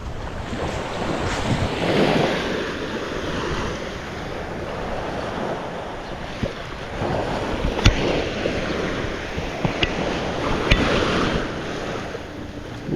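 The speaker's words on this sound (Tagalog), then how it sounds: "Lapit ng dagat." Sea waves wash onto the shore beside open water where fishing boats head out, a loud steady surf roar mixed with strong wind buffeting the microphone, with no speech over it.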